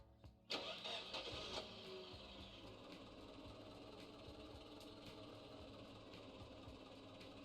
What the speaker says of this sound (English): My truck sounds like the truck sound effects in Arma 3